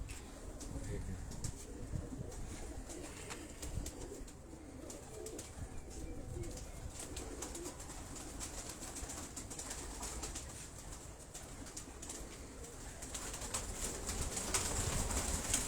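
Pigeons kept as a hobby coo softly and continuously against a busy background of other bird chirps and faint ambient noise.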